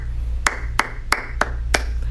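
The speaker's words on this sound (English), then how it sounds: "I'll clap all kinds of different rhythm patterns" Hand claps tapping out a short rhythm pattern, five or six sharp, close claps at slightly uneven spacing over a low steady hum, with no voices.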